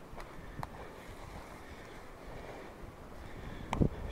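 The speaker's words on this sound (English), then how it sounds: "Wind's starting to pick up a bit." Wind blows across an open mountain farm on Shenandoah Mountain in January, a low steady rushing buffet with a few faint knocks and one brief louder thump near the end.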